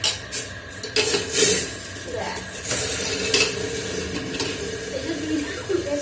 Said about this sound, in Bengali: ফোড়নটা একটু গরম গরমই দেবো, কারণ ঘি আছে তো, গরম গরম বেশ ডালের মধ্যে মিক্স হয়ে যাবে।